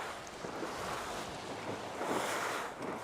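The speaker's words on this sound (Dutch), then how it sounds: "dat betekent dat er een stevige wind zit" Strong wind gusts roar steadily across open water during a skûtsje sailing race, with broadband rushing noise and wave wash swelling near the end.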